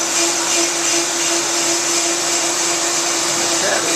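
On-car brake lathe cutting a car brake rotor with chatter, a loud steady whirring grind with a sustained tonal hum running throughout, no speech.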